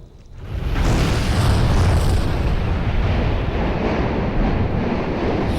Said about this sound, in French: chaque fois que vous voyez une explosion comme ça, en fait, c'est des bulles qui montent à l'intérieur du conduit éruptif